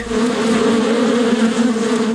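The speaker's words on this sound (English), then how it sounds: "Swarming is when half the bees in a colony leave with the queen and migrate in search of a new home." A swarm of honey bees produces a loud, steady, dense buzzing drone that holds evenly throughout, with no voices.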